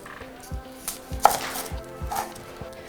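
A kitchen knife chops an onion very finely on a board, giving a quick, steady run of sharp taps at close range with no other sound.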